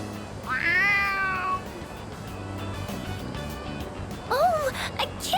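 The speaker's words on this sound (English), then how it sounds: "Oh, a kitty cat!" A cat meows twice in the video game Persona 3 Reload, with a clear rising-and-falling call near the start and a shorter one near the end over a low game background hum.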